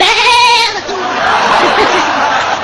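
A goat gives one loud, close, wavering bleat that fades out after under a second, followed by noisy, busy background sound with voices.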